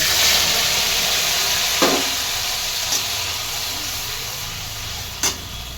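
Ginger and green chili paste sautés in hot oil in a wok after a tempering of dried red chilies and panch phoron, a steady broadband sizzle with a few brief louder spatters, no talk.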